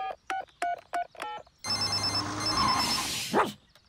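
A cartoon telephone rings in short repeated bursts of bright electronic trills, then a burst of busier ringing and noise follows; no one speaks over it.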